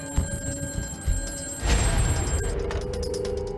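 An old telephone rings close by with a sharp, jangling ring and bursts of bell clatter, loud and alone for a few seconds, with no talking.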